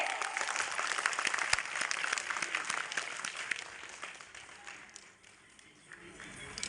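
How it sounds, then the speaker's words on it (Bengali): An audience at a stage event applauds as a guest is called up, continuous dense clapping that thins toward the end, with a voice speaking over it. "একটা জোরে হাততালি হবে"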